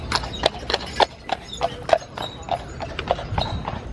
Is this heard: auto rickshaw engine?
no